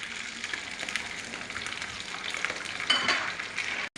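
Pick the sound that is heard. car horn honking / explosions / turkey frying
turkey frying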